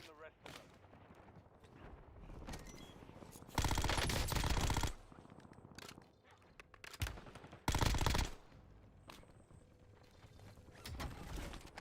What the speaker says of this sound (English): You gotta shoot your gun, buddy.